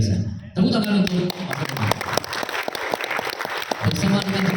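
Audience at a church family program on marriage claps in a dense burst of applause that continues under a speaker's voice for several seconds.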